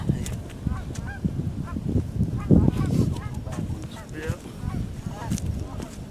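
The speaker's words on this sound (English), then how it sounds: "the geese are still flying, and they're going to come over here in a second" A flock of geese honks repeatedly as the birds fly in overhead during a goose hunt along the Platte River, the calls overlapping in ragged bursts, fairly near and loud, with some voices in between.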